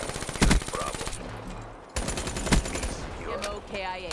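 Game gunfire from Call of Duty: Black Ops 3 comes in two loud bursts of rapid shots with a short lull between, near and punchy, under brief talk.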